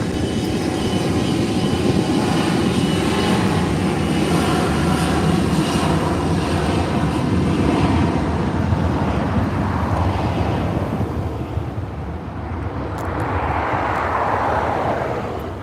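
A Skyway jet takes off from runway 24 right at LAX, its engines a loud, steady roar that holds for many seconds, then thins and recedes as the aircraft climbs away.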